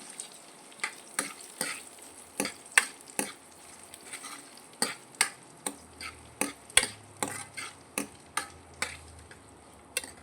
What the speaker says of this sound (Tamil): சின்ன வெங்காயம், பச்சை மிளகாய் சேர்த்துக்கலாம். நல்லா வதக்கி விடுங்க.